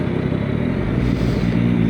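A Ninja 500 or Yamaha R9 motorcycle exhaust runs loud and close in a short steady rumbling burst, alone with no talk.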